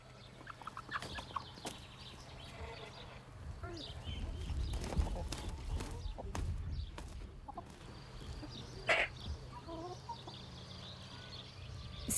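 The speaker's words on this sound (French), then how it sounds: "Le coq pousse son cri pour montrer qu'il est le plus fort sur son territoire" Chickens cluck and squawk close by amid farmyard rustling and thumps, with a brief sharper rooster call near the end.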